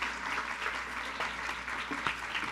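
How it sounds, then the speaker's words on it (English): An audience applauds a mistress of ceremony at a women's community event, a brief, fairly faint wash of clapping from a seated crowd. "So would you all give a round of applause as we get our mistress of ceremony,"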